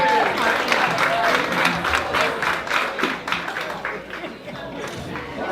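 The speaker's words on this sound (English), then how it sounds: "Give him a round of applause, everyone." A club meeting audience gives steady, moderately close applause with distinct individual claps, easing off slightly toward the end, with a voice beginning to speak over it.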